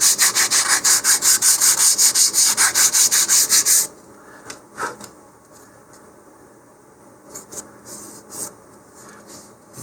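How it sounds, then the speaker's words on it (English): 150 grit sandpaper is rubbed over balsa wood for a model rocket in a quick rhythmic run of about a dozen close, scratchy strokes. Only faint handling noises remain afterward. "I'm going to switch to 150 grit sandpaper and just give that a few strokes here to make it smoother"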